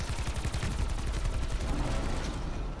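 Ray gun firing in Call of Duty Black Ops 4 Zombies, a fast steady stream of rhythmic pulsing shots continuing loudly without pause throughout.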